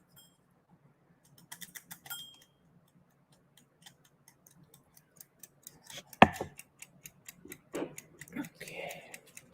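A kitchen-style timer ticks steadily in a quiet room, the regular clicks faint at first and then louder, with a sharp knock and some rustling partway through.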